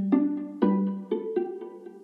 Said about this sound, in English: it's a viola solo preset, and pizzicato is checked on